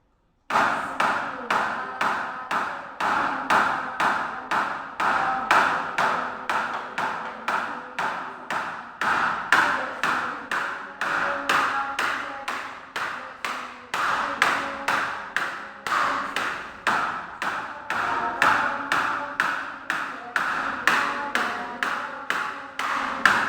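A steady, rhythmic tapping beat keeps time for a Quranic recitation lesson in the nahawand melody, with dozens of even knocks under a voice reciting throughout.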